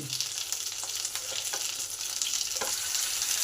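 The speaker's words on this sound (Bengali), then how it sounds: "মাছগুলো কীরকম গোল্ডেন কালার হয়ে ভাজা হয়েছে" Fish fry in a pan with a steady, close sizzle and occasional crackling spits, continuous and fairly loud, with no voices.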